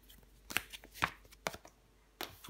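Tarot cards turned over one by one on a table, a handful of soft, close, separate flicks and taps with quiet gaps between them.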